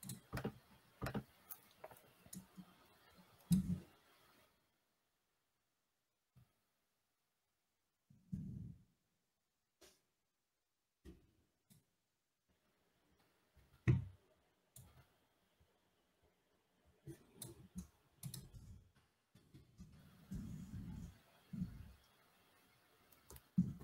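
Computer mouse clicks come as sparse, sharp single and double clicks spread across a quiet stretch, with occasional soft low thumps and brief faint voices toward the end.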